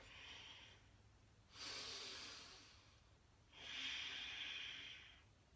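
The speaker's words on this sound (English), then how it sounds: "And exhale, breathing out." Slow exhaled breaths during a yoga exercise, two long airy breathing sounds, close and quiet, with no talking.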